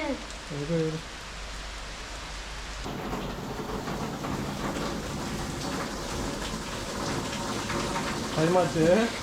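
Heavy rain pours steadily onto a garden, a dense close wash of sound, while a voice talks briefly at the start and again at the end.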